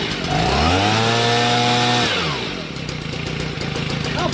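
A STIHL BG55 handheld leaf blower's two-stroke engine screams at full throttle for about two seconds, then drops sharply to a rough idle.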